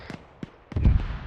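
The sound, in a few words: mortar firing in video game ArmA 3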